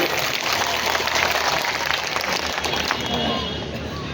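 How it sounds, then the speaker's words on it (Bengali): Applause from the audience at a BNP union-level meeting in Chakaria, a dense steady wash of many clapping hands that fills the whole stretch with crowd noise mixed in. "যারা আজকের সভাকে সৌন্দর্যমণ্ডিত করেছেন জন্য একটু হাততালি দেবেন সবাই"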